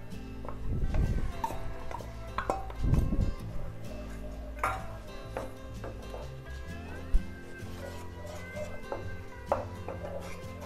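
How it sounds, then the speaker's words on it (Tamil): Jaggery melting in a pan for jackfruit payasam, stirred with a utensil that clinks and scrapes against the metal in irregular bursts, close and fairly quiet with a couple of louder knocks early on. "வெல்லத்தை நல்லா கிளறி விட்டுட்டே இருங்க, வெல்லம் நல்லா கரையணும்."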